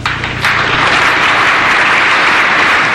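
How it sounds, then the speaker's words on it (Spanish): Loud, sustained applause from an audience at a commemoration of the 34th anniversary of the 1979 Constitution, rising after a brief quieter start and holding steady as a dense, continuous wash of clapping. "Fuertes aplausos, compañeros"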